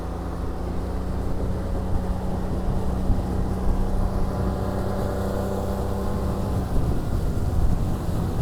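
A motorboat engine drones steadily at speed on plane on a lake, a loud continuous hum with rushing water and wind noise over several seconds.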